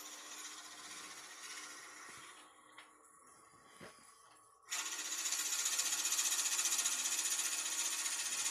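Power drill hollowing out a wood piece, starting with a steady whir that drops to quiet pauses with faint taps, then surging back loud and continuous for the last few seconds; close up, no talk.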